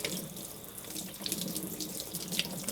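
A running sink tap pours steadily as brined turkey legs are rinsed beneath it, a continuous close splashing hiss with slight fluctuations and no talk.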